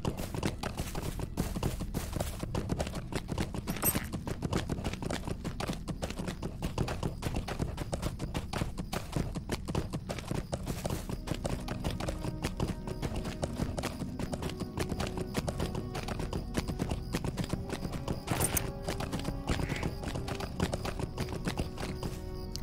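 Steady clip-clop of horse hooves running along continuously in the video game Lord of the Rings Online, moderately loud, with a soft ambient background and faint chimes.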